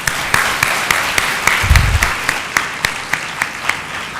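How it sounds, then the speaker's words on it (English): Audience in a university lecture hall applauding Professor Beutler after his lecture, a dense, sustained round of clapping with sharp individual claps standing out, loud and close, without any speech. "Ladies and gentlemen, another big round of applause for Professor Beutler,"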